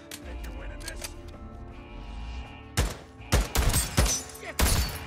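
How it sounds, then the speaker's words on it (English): Gunfire in the game Days Gone: after a quiet stretch of ambient rumble, a string of sharp, loud shots cracks out in uneven bursts over the last couple of seconds, with no talk over them. "Shots have been fired."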